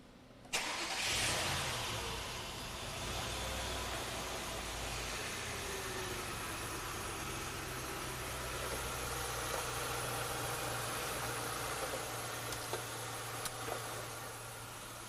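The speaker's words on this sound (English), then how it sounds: "we're going to go ahead and start the engine" Vehicle engine cranked and started during a charging system test, a sudden start followed by a steady idle with a low rumble and constant hum, close and fairly quiet, with no talking.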